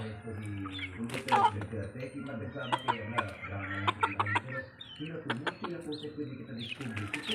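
Chickens cluck and chatter nearby while being fed in the morning, with occasional wing flaps, while a person talks over them.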